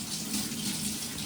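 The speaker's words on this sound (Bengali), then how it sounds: "এখন মাছ ধোয়া হচ্ছে" Running water from a tap pours continuously over fish being washed, a brief steady splashing gush close by with no talking.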